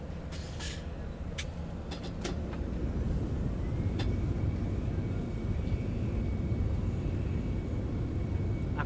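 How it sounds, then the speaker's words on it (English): Airplane coming in to land in a flight simulator, a steady engine drone that swells slightly partway through, with a few sharp clicks and ticks early on. "I keep floating this plane."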